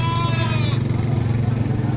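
A Sindhi goat bleats at a Lahore livestock market, a short wavering cry in the first moment that fades into a steady low rumble of market noise.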